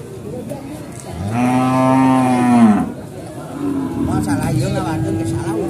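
Cattle at the Purwakarta livestock market moo loudly and close by in one long drawn-out call, with market chatter and background crowd noise continuing around it.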